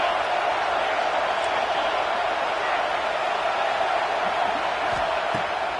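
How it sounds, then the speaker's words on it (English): A steady stadium crowd roar from the video game NCAA '26 holds loud and unbroken throughout, a constant wash of massed voices with no distinct cheers or breaks. "Decibels rising as the crowd gets behind this defense on third down."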